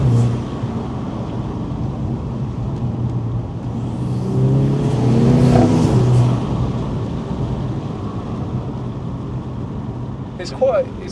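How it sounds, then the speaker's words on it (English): A remapped VW Scirocco R engine growls and rises in pitch as it accelerates on the road, the aftermarket exhaust note swelling midway, with voices talking faintly underneath. "It's not especially loud, the exhaust, but it's quite a nice note."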